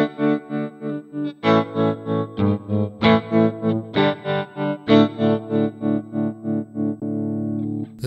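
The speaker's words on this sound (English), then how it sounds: "this is a sine wave trem" Electric guitar chords pulse with a smooth, even sine-wave tremolo from a Sonicake Matribox 2, the volume swelling and dipping in a steady wave-like rhythm, played alone and up close.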